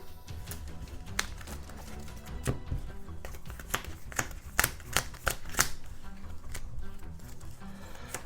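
Recruit cards from the Marvel Legendary deck-building card game being handled on a table, with repeated crisp slaps, flicks and shuffling snaps in an irregular rhythm, close and fairly quiet.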